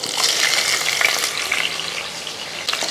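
Ginger and green chillies sizzle and spit in hot oil with fenugreek while being stirred for a Kerala fish curry, a continuous, close, crackling fry with light scraping of the pan.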